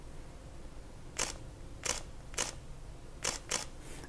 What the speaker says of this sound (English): the shutter sound on this camera is really, really beautiful